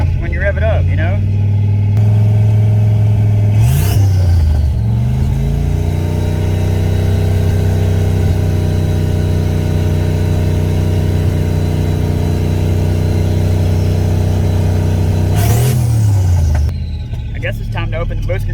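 Fox Body Mustang V8 with a boost controller, near operating temperature after oil pump work, idling close up with a steady low drone, then revved sharply twice with rising and falling pitch sweeps.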